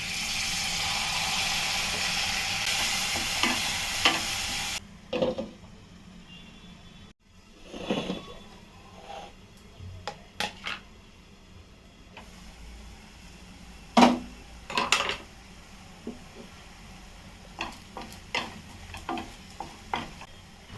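Tomato puree goes into a pan of sizzling masala made with Malvani masala and Kashmiri chilli powder, giving a soft frying hiss that opens with a loud burst and settles into quieter sizzles broken by scattered clinks and stirring scrapes.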